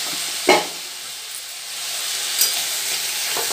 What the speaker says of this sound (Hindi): एखन भजे हेबार लगी देमा पूरा टिके गोल्डन ब्राउन हेबार जाक